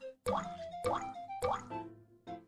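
Lotion squirts onto a baby in the Super JoJo baby care game, three soft cartoon squish-plop effects in a steady rhythm, then a fainter fourth.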